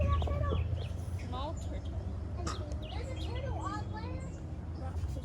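A duck-like bird with an orange beak gives low growling calls close by at the water's edge, steady over a continuous outdoor background, while people talk throughout.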